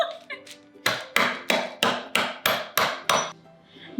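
Repeated hard bangs crush almond caramel crunch, about eight sharp, loud impacts in a steady rhythm after a few lighter taps, with no talking.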